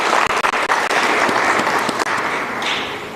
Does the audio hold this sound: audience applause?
yes